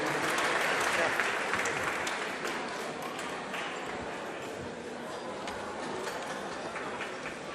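A gala audience applauds in a dense, sustained wash of clapping that peaks early and then settles into a steady, slightly softer roar, filling the hall for the whole stretch.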